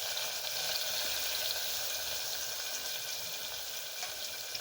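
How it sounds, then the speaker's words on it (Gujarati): Ginger-chili-garlic paste, chopped onions, chilies and tomatoes fry in a pan for a Punjabi-style moong curry, giving a steady, dense sizzle that hisses continuously and evenly throughout, fairly quiet and close with no voices over it. "આદુ મરચાં લસણની પેસ્ટ નાખીશું. આ ડુંગળી, મરચાં અને ટામેટાં સમારેલા નાખીશું."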